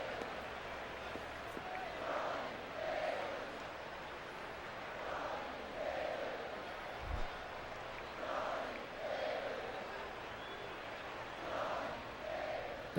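Baseball stadium crowd in MLB 11: The Show, a soft, distant, swelling roar of fans rising and falling in repeated waves every couple of seconds, fairly faint throughout.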